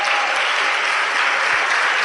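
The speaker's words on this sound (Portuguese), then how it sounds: "Parabéns, palmas para o Tiago." A church congregation applauds for a participant during a Bible study session, steady clapping filling the whole short stretch at a fairly loud, even level.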